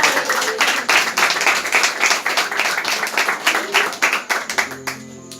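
A church congregation applauds for Jesus, sounding as a burst of mid-distance clapping that goes steady and dense and then thins into scattered claps, with no voice over it.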